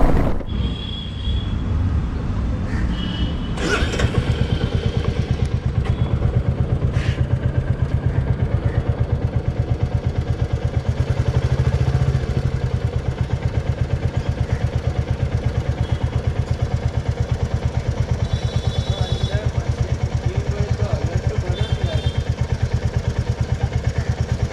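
A 2021 Royal Enfield Classic 350 single-cylinder motorcycle engine runs steadily for a long stretch with a fast, even thumping beat and some wind rumble, after a short clatter at the start.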